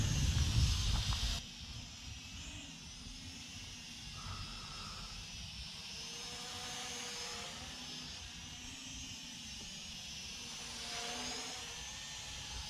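An LMRC LM01 GPS FPV drone hovers in place, giving a faint, steady propeller whine and hiss with slight shifts in pitch and a brief louder rush at the start; no one talks.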